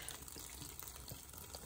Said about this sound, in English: So I need to add a little more water in here.